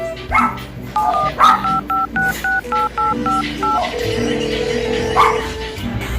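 A phone number being dialed, a steady run of about eight touch-tone beeps followed by a sustained ringing tone, with a short dog bark and background voices.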